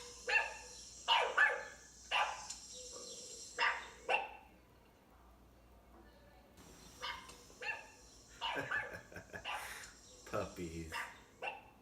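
Puppies bark in a series of high, yapping bursts, grouped in a few clusters with short pauses between, fairly close with faint background hum.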